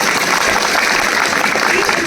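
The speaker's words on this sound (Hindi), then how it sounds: "आप सब अपने लिए एक बहुत अच्छी ताली बजाइए" An audience claps steadily through a short, loud burst of applause, continuous and fairly close, with a voice speaking faintly beneath it.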